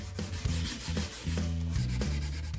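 Light hand sanding on a stained wooden travel guitar body: close, quiet back-and-forth rubbing strokes in an uneven rhythm, with no talking.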